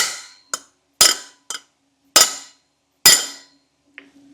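Six sharp metallic taps with quick ringing decay strike a cap being seated onto a disc brake part, spaced irregularly about half a second apart, the last one softer.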